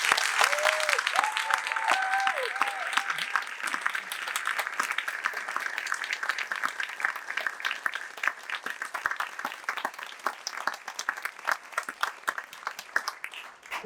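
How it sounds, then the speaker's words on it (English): Sustained audience applause for graduating Year 13 students at a school graduation ceremony in Seoul, a dense wash of many hands clapping loudly for about fourteen seconds, with brief tones early on and a few voices beneath. "Let's give our graduates a round of applause."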